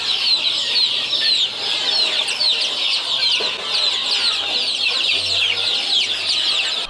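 KUB chickens cluck and chatter continuously in a poultry pen, many birds at once in a dense, busy flock chorus heard up close, with a low hum beneath.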